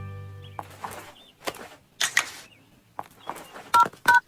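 Short electronic telephone keypad dialing tones in an animated cartoon scene. A few brief beeps come near the end, after scattered clatter and rustling.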